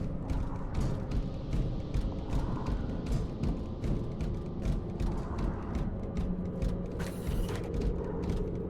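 Heavy mechanical door in the Space Hulk video game grinding open, a loud continuous creaking and ratcheting of gears with rhythmic clanks, ending in a brief hiss.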